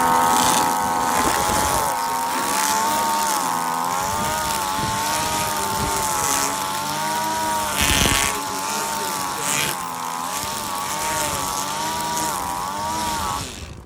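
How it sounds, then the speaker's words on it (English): A 2-cycle string trimmer loaded with commercial-grade .105 triangular line runs continuously while trimming an old backyard fence, its close, loud buzzing whine wavering in pitch as the throttle rises and falls. "One pull, 2 cycle engine start."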